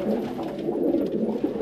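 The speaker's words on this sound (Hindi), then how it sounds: "इनमें ज़रबंद गोरे मिक्स कबूतर हैं" A flock of Zarband Gora mixed pigeons keeps up a steady, throaty cooing, many overlapping low warbles heard up close without gaps.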